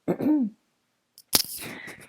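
A single sharp cough bursts out after a brief hum-like vocal sound and a moment of silence, close and loud.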